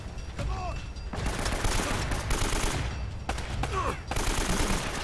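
Gunfire in the action game Uncharted rattles on almost without pause, loud rapid bursts of shots that fill the clip, with a brief lull midway before the shooting resumes.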